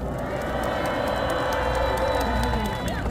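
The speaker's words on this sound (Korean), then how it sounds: "큰 박수 부탁드립니다." A large rally crowd in front of Gwanghwamun at a candlelight protest roars and cheers continuously, a dense, loud wash of voices and clapping with no break.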